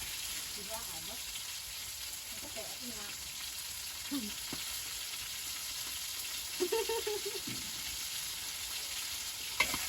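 Cicadas frying in a pot of oil give a steady, close hiss and crackle throughout, with a few louder pops and spatters standing out now and then and no voices heard.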